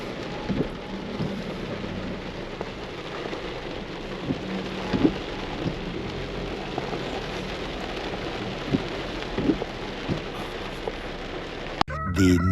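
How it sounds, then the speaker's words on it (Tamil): Heavy rain pours steadily on a road during a Chennai to Sabarimala road trip, with scattered thumps of thunder and drops over a constant hiss, fairly faint overall. "செம மழை"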